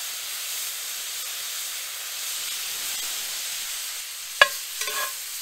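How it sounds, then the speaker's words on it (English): Meat sears in butter in a pan during a riverside steelhead fishing trip, giving a soft, steady sizzle and hiss throughout, with a sharp clatter and a few small knocks near the end. "We're going to let it get a good sear"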